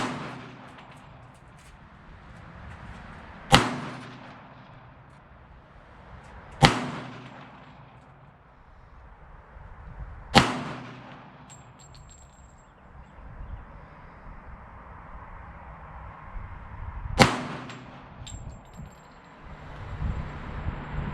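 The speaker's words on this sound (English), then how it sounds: "Let's shoot these last few rounds" Four sharp pistol shots from a Glock in .45 Auto at an outdoor range, spaced irregularly a few seconds apart, each a loud crack with a decaying echo over quiet ambient background.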